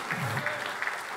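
A church congregation claps steadily in a large, reverberant sanctuary, a dense wash of applause without pause.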